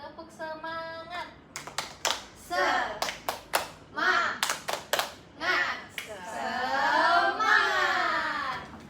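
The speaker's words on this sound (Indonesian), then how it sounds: "Sebelum itu Ibu ingin tes, makanya dulu tepuk semangat." Elementary schoolchildren in a classroom perform a rhythmic spirit clap, sharp clustered hand claps in a patterned sequence alternating with children's chanting voices and an adult voice leading.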